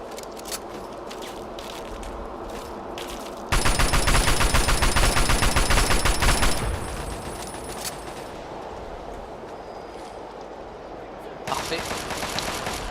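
Gunfire in Fallout 3 aimed at an enemy turret, with rapid automatic bursts that come and go, loud and dense in the foreground, separated by stretches of quieter game ambience.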